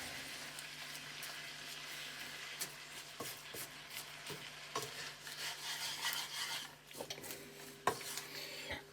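Food stirred in a pan on a plug-in electric hob while Char Sui Lo Mein is cooked, giving faint scraping and soft sizzling with occasional light clicks against a steady low hum.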